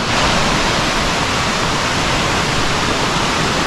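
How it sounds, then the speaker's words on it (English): The Minoh Park waterfall near Osaka roars as a dense, steady wash of falling water, loud and close, with no break or variation and no voices over it. "I found my way to the waterfall"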